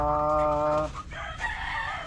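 Chickens on a farm, with a loud, close rooster crow held for nearly a second, followed by softer clucking and background clatter.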